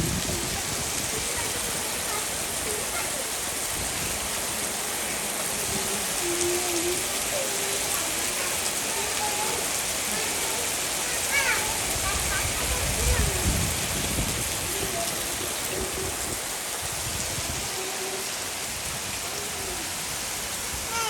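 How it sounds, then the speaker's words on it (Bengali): Heavy rain pours down steadily during a storm at a house, a loud continuous wash of drops drumming on surfaces for the whole stretch with no pauses. "বৃষ্টি হইতে হইতে ঘরের এই পর্যন্ত পানি এসে পড়ছে"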